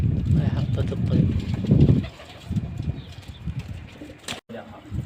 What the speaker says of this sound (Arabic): هاي حطت الطيور شباب.